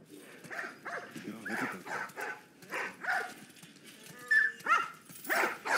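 Small dogs bark and yip repeatedly in a video game, amid a busy, cluttered mix of sound, moderately loud and somewhat distant. The Last of Us Part 1.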